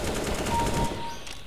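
A quick burst of automatic gunfire in Counter-Strike: Global Offensive, with fast repeated shots close and loud that taper off in the final moments.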